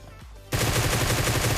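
Automatic gunfire in a first-person video game, a player pre-firing at a corner: after a quiet start, a close, loud, sustained volley of rapid shots.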